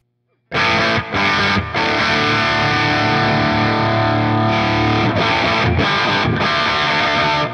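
Electric guitar through a distortion pedal, its mode switched by an Airstep wireless foot switch, playing loud, saturated chords that start abruptly and ring on with brief stops between strums.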